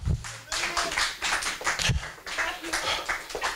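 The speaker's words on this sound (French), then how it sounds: "Applaudissez pour la gloire de Dieu." A congregation at a Sunday church service claps in a quick, uneven rhythm with bursts of hands and some voices mixed in, the clapping close and fairly loud.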